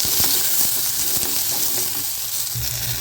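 Onions sizzle steadily in a hot pan while cooking for a spicy Tamil kara chutney, a close, continuous frying hiss with small crackles and pops throughout.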